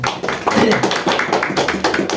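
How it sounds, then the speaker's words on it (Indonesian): A group clapping hands during a church catechesis session, a brisk run of close, loud, fairly irregular claps lasting a couple of seconds. "Oke, jadi mari kita tepuk tangan."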